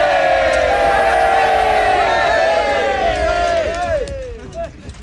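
A crowd of many voices cheers and shouts together, a loud rising roar that trails off into scattered calls.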